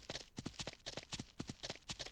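Horse hooves clip-clopping in the Ranch Simulator video game, a quick, steady rhythm of crisp paired clops repeating evenly, close but fairly quiet, with no speech.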